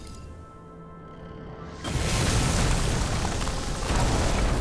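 An explosion in the video game Nobody Wants To Die: a low hum gives way to a sudden loud, rumbling blast that keeps roaring and crackling for several seconds, with no talk over it.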